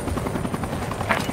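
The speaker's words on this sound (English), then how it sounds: "We have detected the enemy's chopper." In an online shooter match, an enemy chopper's rotor drones steadily with a dense, loud, continuous thrum and whine that fills the whole moment with no voices.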